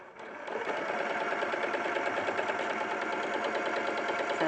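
A sewing machine runs a steady stitch across fabric pinned two inches from the corner, starting after a brief pause and then humming with a fast, even mechanical rhythm at close range for several seconds, with no talking.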